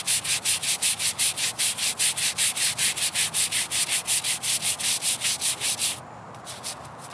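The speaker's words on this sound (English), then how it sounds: "just start scrubbing" Knuckle saver brush scrubbing a marble headstone in quick, regular back-and-forth strokes, about three per second, close and rasping, then stopping abruptly near the end.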